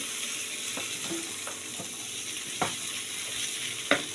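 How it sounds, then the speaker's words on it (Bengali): New potatoes and peas fry in a pan, a soft continuous sizzle with a few sharp clicks and scrapes of a utensil stirring, close and fairly quiet with no talking. "আলু আর মটর প্রায় ভাজা ভাজা হয়ে এসছে"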